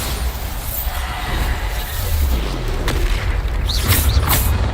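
A Bombarda blasting spell explosion in a Harry Potter video game: a deep rumbling boom over a steady noisy background, followed by a few sharper bright bursts near the end.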